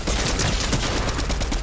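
Rapid automatic gunfire from a Fortnite zero-build tournament match, loud, continuous and dense, with bursts of shots overlapping for the whole stretch.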